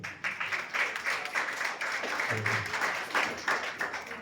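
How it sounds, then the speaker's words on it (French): An audience at a wedding ceremony claps together, producing moderately close, lively applause that keeps up steadily for a few seconds. "On va applaudir."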